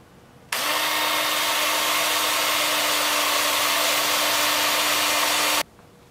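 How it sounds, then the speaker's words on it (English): A turned African sumac live edge wooden bowl is sanded at a workbench, producing a loud, steady power-sander whine that starts abruptly, holds for about five seconds and cuts off, with no voices. "take it over here to the workbench, sand it up"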